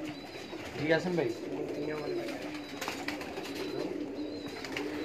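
Pearl-marked pet pigeons coo in a loft setup, their soft murmuring calls repeating under nearby conversation and background noise.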